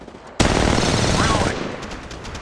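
Automatic gunfire in Apex Legends starts abruptly and keeps up a loud, dense sustained burst for about two seconds, easing slightly toward the end.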